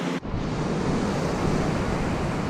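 Ocean surf rolls in steadily at Ormond Beach, Florida, a loud continuous wash of breaking waves and wind roar close to the microphone, briefly dipping at the start before the surge fills the scene.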